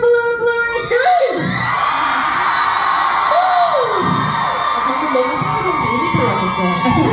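Concert fans screaming at a Festa Tour 2023 show in Charlotte, a loud wave of high-pitched shrieks and whoops rising and lingering across the crowd.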